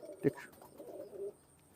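A Pakistani high-flying pigeon gives a soft, low coo up close, one brief throaty call followed by a quieter murmur.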